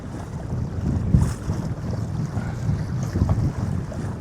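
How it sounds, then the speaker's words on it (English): Strong wind buffets a boat out on the California Delta, a steady roaring rush with gusty swells and microphone buffeting, and no talk. "Ooh, boys, it's fucking windy."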